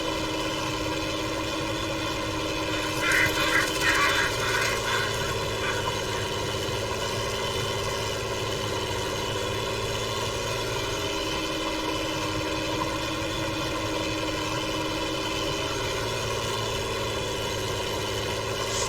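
A Ford TW35 tractor engine working under load, a steady, droning mid-pitched diesel rumble holding constant for nearly twenty seconds with a slight rise in intensity early on, and no talking.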